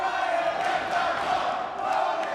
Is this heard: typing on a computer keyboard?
no